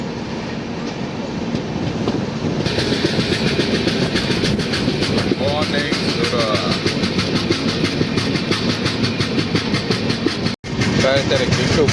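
An Indian Railways train on the Rajkot to Goa run near Vapi rolls on with a steady, loud clickety-clack of wheels over rail joints and a constant rumble, heard from inside the moving coach.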